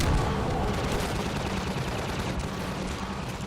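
Sustained gunfire in the Half-Life 2 video game, a dense, continuous barrage of rapid shots filling the whole stretch at steady loudness with no talk over it.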